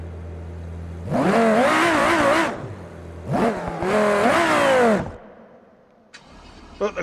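A rally car engine in BeamNG.drive revs hard twice in long rising-and-falling bursts, loud and close, then drops to a low idle with a few clicks.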